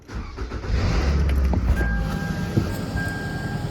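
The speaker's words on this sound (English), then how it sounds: "I'm gonna go ahead and start my car and I'm gonna test for any leaks" A car idles in a garage after an exhaust weld repair, a close, steady low rumble with some small clanks and a faint high whine, running continuously throughout.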